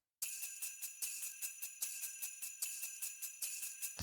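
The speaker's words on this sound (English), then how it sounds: "I might add these shakers and a tambourine" Shakers and a tambourine layered into a modern metal chorus, a fast, steady rhythmic jingle and shaker swish with bright accents on the beats, close and isolated, with no talk.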